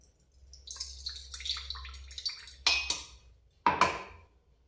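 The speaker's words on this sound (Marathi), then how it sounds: "हे असं त्या मिक्सरच्या बांड्यामधलं पण असं घेऊन त्याला एका बुगल्यात गाळून घेते" Blended liquid from a mixer jar is poured and strained through a cloth into a small pot, with close clinks and knocks of the jar and vessel, a light trickle of water, and two sharp clatters toward the end.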